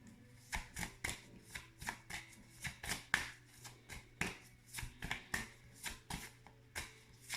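Playing cards shuffled for an emotion card reading, a rapid series of crisp riffling bursts repeating in a steady rhythm, close and fairly quiet, with no voices.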